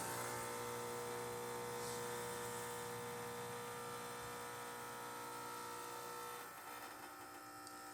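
A Quickmill Anita espresso machine, freshly serviced, runs a test shot. Its pump gives a steady, close electric drone with a buzzing hum that shifts and eases slightly near the end.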